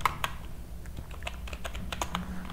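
Keystrokes on a computer keyboard while typing a command into a Linux terminal, a brisk, irregular run of close, crisp clicks with no voices.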